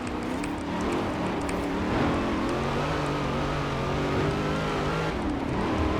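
A steady, loud engine drone of a stock 2018 Chevrolet Camaro ZL1 in Forza Horizon 4, with a supercharger-like whining tone that rises and falls, running continuously without any talking.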